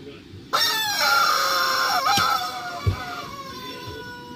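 A rooster crows loudly and up close in one long, strained call that trails off, followed by a short thump, against a steady background murmur.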